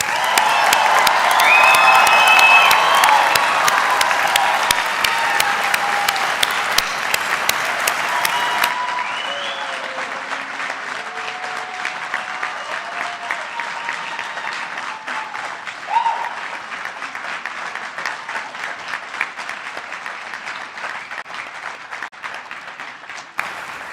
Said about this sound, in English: I invite those in attendance to join me in applauding your success.